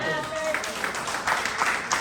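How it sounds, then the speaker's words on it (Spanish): A church congregation applauds during a sermon, a brief burst of dense, fairly loud clapping. "Denle un aplauso a Cristo."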